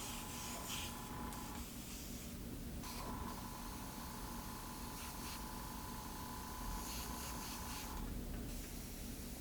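Airbrush spraying paint onto a canvas for a textured background, a faint continuous hiss that pauses briefly a few times, no voices.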